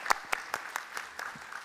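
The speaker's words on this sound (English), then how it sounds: "So let's give her another applause" Sparse audience applause at a startup demo day, a handful of distinct claps at an even quick pace that gradually soften, fairly faint with a hushed room behind.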